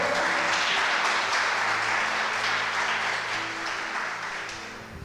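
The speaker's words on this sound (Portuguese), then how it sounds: "Vamos aplaudir o Senhor." Church congregation breaking into sustained applause, a dense wash of clapping that holds steady and slowly eases off toward the end, with no talk over it.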